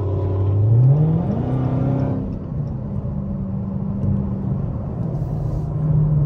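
A 900 hp Dodge Hellcat engine roaring through exhaust headers while driving, a loud close rumble that climbs in pitch during the first couple of seconds, then settles into a steady deep drone with slight rises, heard alone.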